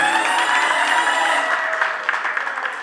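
Wedding party guests clap for the bride in a loud, sustained round of applause that slowly thins out toward the end, with some musical tones ringing underneath.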